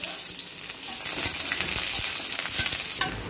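Whole cumin seeds, a bay leaf and onion hit hot mustard oil in a pan, giving a bright, crackling sizzle with scattered pops and spatters that builds over a few seconds.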